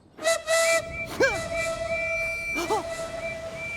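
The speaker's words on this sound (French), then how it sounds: "Vite, signalons notre présence en sifflant." A steady, tonal cartoon train whistle sounds continuously with breathy hissing bursts, while short gliding voice-like chirps rise and fall over it.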